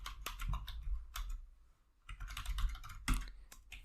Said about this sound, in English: You can type your IP address.